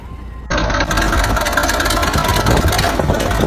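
An old, weathered D8K bulldozer's engine runs steadily and loudly close by, a broad continuous rumble that kicks up abruptly after a brief quieter moment.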